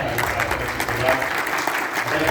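Audience clapping in honor of farmers at an agricultural export event in Varanasi, a dense moderately loud patter of many hands with some crowd voices mixed in, lasting a couple of seconds.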